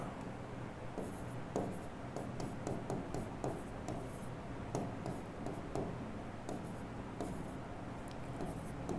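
A pen or marker scratches and taps across a board or paper during a chemistry lesson on log and antilog calculations. The strokes come in short, irregular bursts over a steady low background, with no talking.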